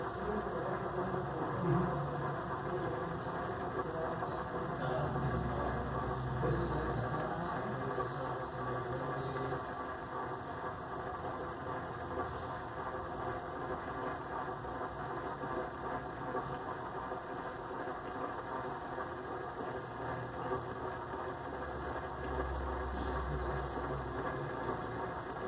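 A CAME AXO 5024 swing gate motor runs through its calibration cycle, opening and then closing, as a steady low mechanical hum and drone with faint background noise. No voices are heard.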